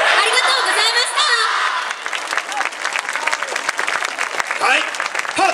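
Loud applause with cheering and whoops from a crowd at a Japanese dance festival, sustained throughout, with voices shouting in the mix.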